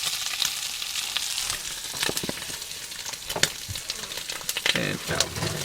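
Salted bacon frying in a pan alongside toast on a stove in a snowy mountain setting, a loud continuous crackling sizzle with sharp pops scattered through it.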